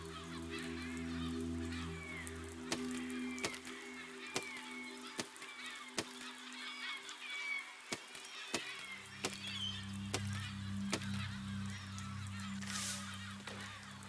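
Birds honk repeatedly in the building game Besiege, scattered goose-like calls over a steady low engine drone, punctuated by sharp clicks and knocks.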